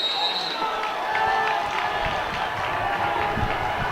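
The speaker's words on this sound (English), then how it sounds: "Crowd's getting into it." A crowd murmurs and cheers in a high school boys basketball gym during a game against Boston Latin, with scattered ball bounces and shoe squeaks under the steady noise.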